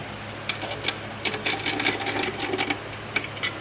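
Motor mount bolts on a TheraCycle being loosened and removed with a tool, a close run of quick metallic clicks and ratcheting bursts over a low steady hum.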